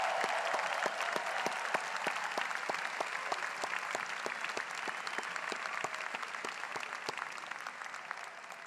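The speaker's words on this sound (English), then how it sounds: "how about a round of applause for the staff who have made all of this happen today?" Steady applause from a large commencement crowd at Skidmore College's 112th Commencement, dense continuous clapping holding at an even level throughout with a few sharper individual claps standing out.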